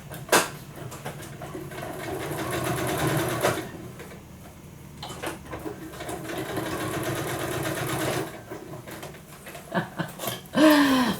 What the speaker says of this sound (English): So I zigzagged and I did a straight stitch just to kind of keep that fun.